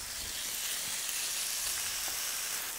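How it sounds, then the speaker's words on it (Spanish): Chicken breast pieces go into a very hot frying pan and sizzle in a dense, continuous hiss, close and fairly loud, with no voices over it. "cuando la sartén está bien calientita, le vamos a poner adentro los trozos de pechuga de pollo"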